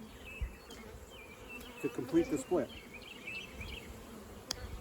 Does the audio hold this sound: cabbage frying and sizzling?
no